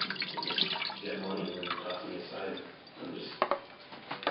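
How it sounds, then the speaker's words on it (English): Water runs from a tap over cooled brinjal while it is washed so the skin peels off. The running water is a soft, continuous splash heard under a voice talking. "Let the brinjal cool down, then wash it with cold water so that the skin peels off easily."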